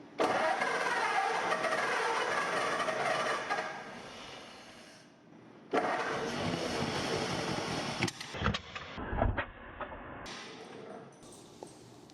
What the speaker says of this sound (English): the old 6-volt Ford solenoid's got a cute little nipple on there that you push and it cranks it over like so